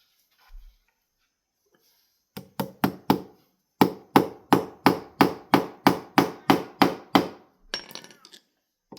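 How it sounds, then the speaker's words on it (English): Fasteners hammered into a wooden couch frame during a repair: a rapid run of sharp, evenly spaced hammer blows, a short burst then a longer steady series of about a dozen strikes, close and loud with no talking. "Hammer them in like all the way."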